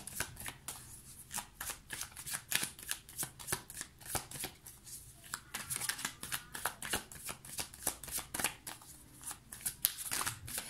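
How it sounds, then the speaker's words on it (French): Oracle advice cards are shuffled and drawn by hand, a close, steady stream of papery riffles and slaps running throughout with no talking. "je vais vous tirer des cartes conseils"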